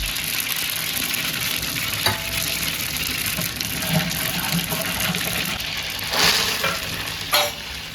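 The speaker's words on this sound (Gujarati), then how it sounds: "સંભારનો વઘાર તૈયાર કરી દીધો." A sambhar tempering sizzles in hot oil close by, a continuous crackling hiss broken by a few sharp bursts and splashes as liquid meets the pan.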